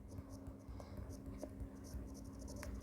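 Marker writing on a board during an O Level computer science lesson, a soft continuous scratchy stroke with brief taps, steady and close under a low room hum.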